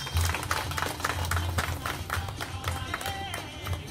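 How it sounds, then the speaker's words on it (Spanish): A gathered audience at a small event claps at moderate volume, with scattered, uneven handclaps continuing steadily for a few seconds in a roomy space. "Fuerte el aplauso y gracias por las palabras."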